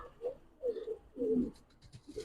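Hungarian Budapest highflyer pigeons give soft, low cooing calls close by, several throaty rolling coos in an uneven rhythm with quiet background between them.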